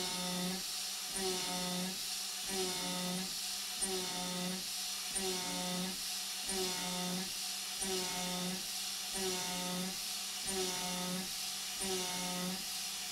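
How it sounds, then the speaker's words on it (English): Desktop gantry CNC router spindle, turned down to about 12,000 RPM, milling steel in a steady continuous cut with a rhythmic pulsing whine and a faint hiss throughout, fairly quiet and with no talking. "So the spindle bogged down just a little bit at the end of the helical ramp, but once it got into the cut continuously, it sounds just fine"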